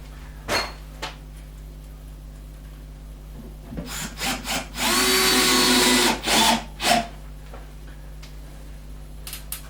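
An OSB wall cabinet being drilled with a power drill in a woodworking shop, a few sharp knocks and taps followed by a loud, sustained whirring bore of about two seconds, then more handling clunks.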